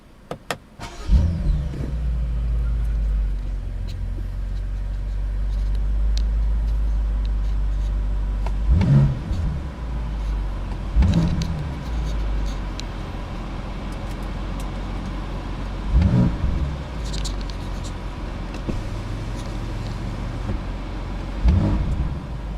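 A BMW F90 M5 Competition starts with a sharp crank and bark, then settles into a deep steady idle, broken by four or five quick throttle blips, heard up close.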